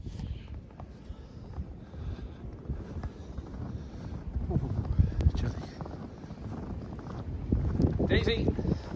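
Strong wind buffets the microphone outdoors in Maine, a loud, continuous rumbling roar that surges and gusts, with a person talking at times beneath it.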